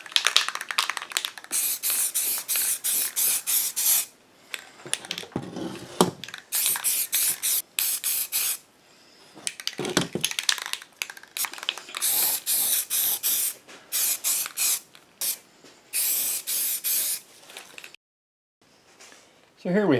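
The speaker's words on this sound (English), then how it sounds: "Another trick when spray painting, or even with a paint gun, start spraying before the part." Repeated bursts of spray hiss from spray painting primer onto interior car pieces, short and long blasts separated by pauses, close and loud.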